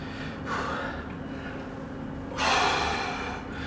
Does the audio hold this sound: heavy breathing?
yes